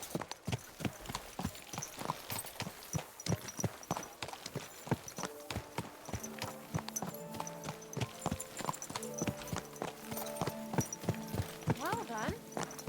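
Horse hooves clip-clop in a steady walking rhythm through a town in Kingdom Come Deliverance 2, close and distinct, with a voice talking over the hoofbeats and a faint whinny toward the end.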